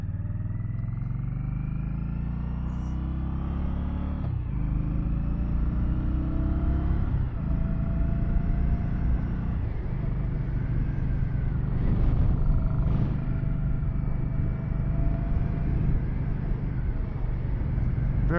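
A 2024 Indian Scout Bobber Sixty motorcycle accelerates on the road in a steady torque pull, its low engine rumble close and continuous with rising tones and wind noise, no talking over it.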